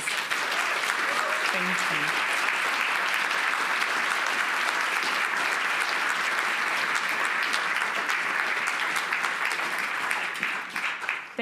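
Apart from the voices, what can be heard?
audience applause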